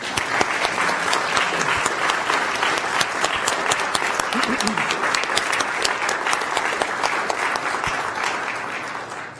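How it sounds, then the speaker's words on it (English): Sustained applause from an audience at a community college governing board meeting, steady and dense clapping throughout with light crowd noise and no speech over it. "So if you all could please join me in giving them a round of applause."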